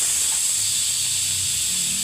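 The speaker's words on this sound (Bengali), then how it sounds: "আমি এই প্রেসারের সিটিটা খুলে দিচ্ছি" Steam hisses steadily and loudly from a pressure cooker as its whistle is lifted off while cooking dal, a continuous bright rush with no voice over it.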